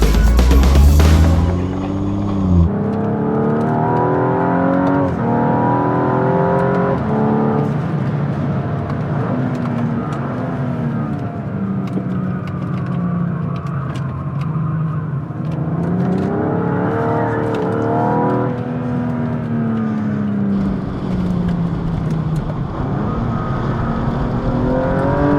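A racing car engine drones loudly and continuously on a track, its pitch rising and falling as the revs change, with no voices over it.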